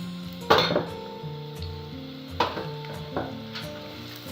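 Sliced onions dropped into hot oil in a pan for a chicken white karahi, giving a sudden close sizzle with a few metal pan clinks, the frying hiss continuing steadily alongside background music.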